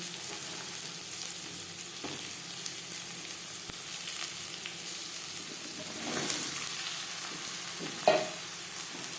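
Steady sizzling of eggplant pieces frying in a pan with little oil, with a few soft clinks and stirring scrapes rising over the hiss.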